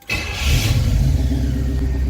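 A 1966 Pontiac Catalina wagon engine cranks and catches, then settles into a loud, steady, rumbling idle close by, with no voices over it.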